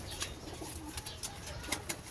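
Pigeons coo softly inside a loft, faint low murmurs repeating irregularly amid quiet rustling and a few light clicks, with no talking.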